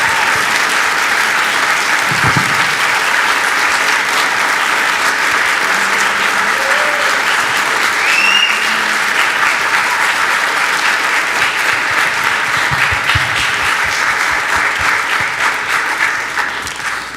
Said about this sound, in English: give them one more round of applause for their service